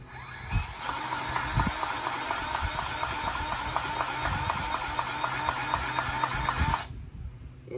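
Grease gun pumping grease into the track adjuster of a John Deere 317G compact track loader during a 50-hour service, a steady mechanical whir with rapid repetitive strokes running for about seven seconds, then stopping abruptly.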